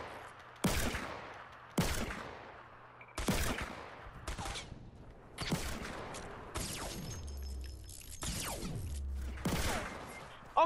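Repeated gunshots in a sniper-only video game match: sharp, loud single rifle cracks spaced a second or two apart, each trailing into a long decaying echo, with no talking.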